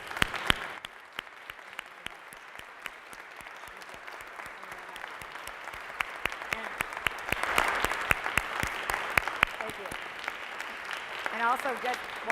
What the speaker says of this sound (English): let's just give them a big round of applause again